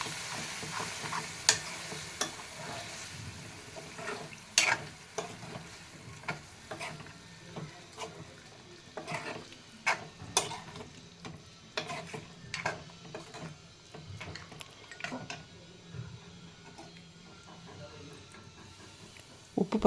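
Boiled mutton is stirred and fried in a pan for chukka gravy, with a low sizzle under scattered scraping and clinking spoon strokes; a voice speaks now and then.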